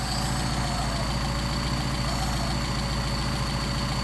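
A Mercedes 190SL engine idles on Solex 44PHH carburetors, a steady, even low rumble held close and unbroken for the whole stretch with no voices.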